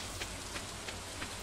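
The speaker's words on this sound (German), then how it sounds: "Es regnet." Steady rain in the farming video game Stardew Valley, with a constant soft hiss of falling water and faint regular pattering ticks, heard alone without talk.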